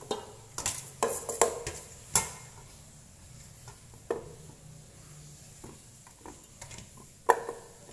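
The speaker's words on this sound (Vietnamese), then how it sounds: "Bây giờ mình sẽ xếp vào nồi cơm điện" Washed sweet potatoes set into the pot of an electric rice cooker, heard as a run of light knocks and scrapes against the pot, loudest near the start and thinning to sparse clinks, with no talking.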